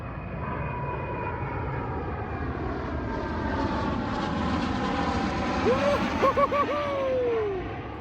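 A propeller plane drones steadily overhead, its engine tone rising and shifting as it passes, with a person calling out excitedly near the end.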